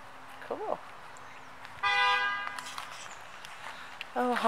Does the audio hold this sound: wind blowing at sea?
no